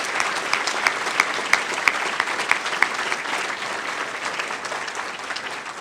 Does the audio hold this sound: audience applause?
yes